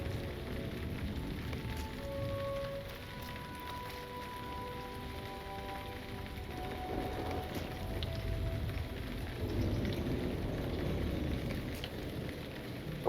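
Heavy rain falling in Lord of the Rings Online, a steady dense hiss and patter that stays loud and continuous throughout, with no talk over it.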